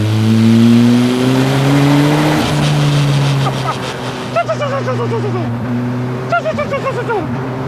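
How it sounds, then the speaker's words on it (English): Turbocharged Ariel Nomad 2 off-road car, engine droning loud and close, then easing off as the turbo wastegate chatters and flutters in repeated bursts between throttle lifts; a voice talks over part of it. "have a listen to the wastegate"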